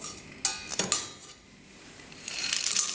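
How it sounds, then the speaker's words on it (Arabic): Metal utensil scraping and clinking against a pot as carob is stirred into caramelizing sugar, a few sharp clanks early, then a quiet pause before steady sizzling stirring builds up. "ننزل بالخروب نقلب لحد السكر ما يتكرمل معايا"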